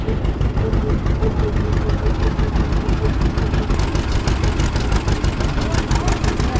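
Tractor engines idle steadily at an outdoor tractor pull weigh-in, a dense, continuous low rumble with a rapid knocking pulse, close and loud throughout.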